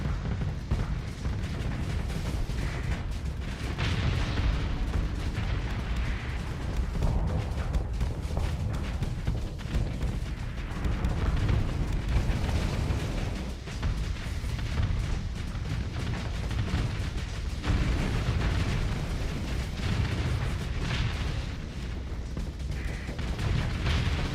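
Missiles in the Starsector space game fire and burst in a dense, continuous barrage of thuds and booms over a steady rumble, with no talking.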